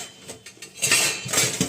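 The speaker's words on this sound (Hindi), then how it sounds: "सॉरी, बर्तन गिर गए थे" Washed kitchen utensils and cups clatter as they fall in a home kitchen, a few scattered metallic clinks followed by a louder jumbled crash.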